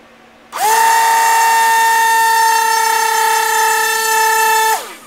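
A small brushed electric motor, 8.5 mm or 7 mm size, spins up abruptly to a loud, steady high-pitched whine that holds evenly for several seconds before cutting off sharply.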